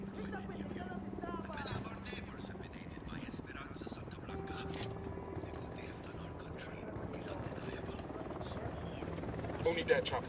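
Helicopter in the Ghost Recon Wildlands video game, a steady rotor drone running beneath game ambience and quiet voices for the whole stretch, swelling slightly at the end.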